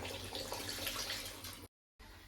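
Water poured into a cooking chicken curry: a quiet, steady splashing trickle lasting under two seconds, broken by a brief silent gap.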